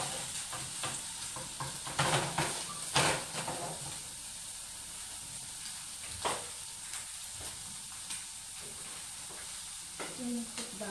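Garlic and bean curd cubes frying and being stirred in a pan, a steady close sizzle with scraping stirs and occasional sharper clatters throughout.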